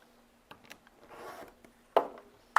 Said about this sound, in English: take your small cutaway, and then you're going to just trim this side